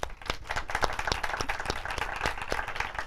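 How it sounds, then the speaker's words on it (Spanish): A seminar audience claps after a presentation, with distinct sharp individual claps standing out over a denser patter of hands, moderately close and sustained. "Un aplauso."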